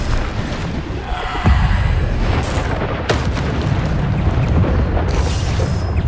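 A Bombarda spell explodes in Hogwarts Legacy combat with a sudden booming burst, then a second blast follows amid ongoing magical battle noise, loud and close.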